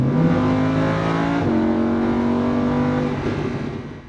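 A 2015 Lamborghini Huracan engine revs steadily near 4,000 RPM, a loud, sustained, close harmonic roar that dips in pitch and settles halfway through before fading slightly at the end, with no talking.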